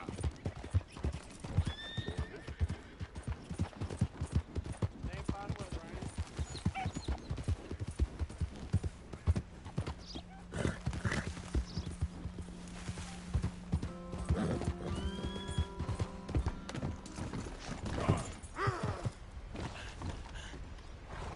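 A horse in the Red Dead Redemption video game, with rhythmic galloping hoofbeats running throughout, punctuated by a couple of loud neighs and whinnies, alongside faint creaking tack.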